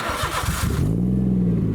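A small car engine cranks briefly, then catches and settles into a steady, close idle.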